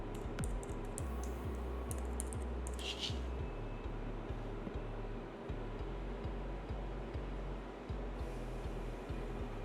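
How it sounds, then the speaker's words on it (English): Fingers type on a computer keyboard, producing a steady run of quick, soft keystroke clicks over a faint background hum. "And now you can just type in your personal information."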